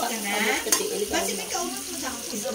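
Shrimp frying in a pan, a continuous close sizzle with a few sharper crackles, heard on its own without talk.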